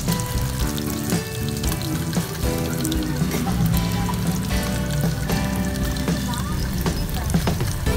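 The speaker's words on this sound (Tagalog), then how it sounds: "We also need to fry the spam" Spam frying in a pan, a constant close sizzle and spitting crackle under background music, with no talk.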